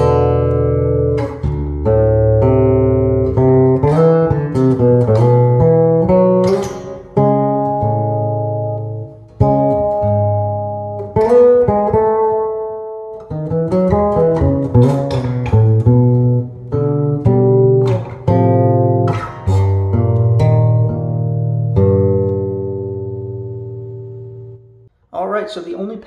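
Acoustic bass notes played through delay and reverb pedals, a continuous melodic line with ringing tails and echoes, loud and close with no talking.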